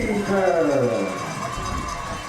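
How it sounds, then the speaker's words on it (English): A crowd at a high school football game hollers, a broad wash of shouting voices rising then settling to a steady din, heard at a distance with a commentator's voice talking over it. "we have the Fairview crowd hollering for a horse collar"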